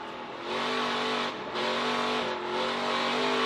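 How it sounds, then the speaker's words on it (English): A NASCAR Camping World Truck Series truck engine roars on a dirt track during a qualifying heat race, loud and close, its pitch surging as the throttle is worked on and off in quick pulses. "Listen to Joey work that throttle"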